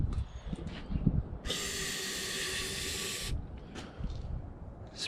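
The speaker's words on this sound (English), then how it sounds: "Spray in there." Air spray hissed into an engine cylinder head with the valves closed to check for bent valves, a single steady hiss lasting about two seconds over quiet workshop background noise.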